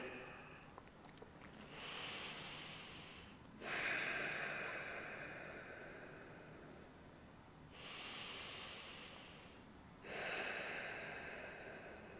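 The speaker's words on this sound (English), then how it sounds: "Relax here, take a deep breath, catch your breath, lower that heart rate." Slow, deep breathing during a cool-down after a yoga-based strength workout, with long airy inhales and exhales coming in a steady rhythm close to the microphone, with no talking.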